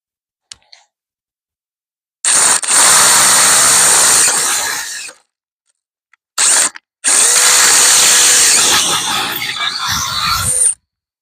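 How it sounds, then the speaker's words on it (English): A power drill bores a large hole through a metal gate pipe, with two long, loud, harsh grinding bursts of several seconds each separated by silence and a short blip, and no talking. "we've got our big hole drilled"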